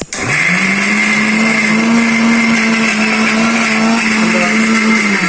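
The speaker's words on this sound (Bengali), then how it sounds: "এখন পেঁয়াজ কুচি করবো ব্লেন্ডারের মাধ্যমে" An electric blender chops onions, its motor whirring loud and steady right up close for several seconds after a brief start-up.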